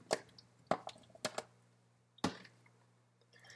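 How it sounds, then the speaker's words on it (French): Cherries dropped by hand into a terrine for a clafoutis, a few separate soft plops and squishy knocks spaced through a quiet kitchen with a low steady hum underneath. "Maintenant, mettez les cerises dans la terrine"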